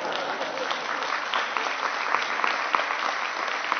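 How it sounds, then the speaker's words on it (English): Steady audience applause at a UK arts speech, dense and sustained with many hands clapping at even loudness throughout, no voices over it. "let's have some applause for that."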